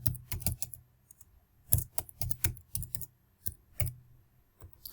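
Typing out a C program on a computer keyboard: quick bursts of close, crisp key clicks separated by short pauses, with no voices.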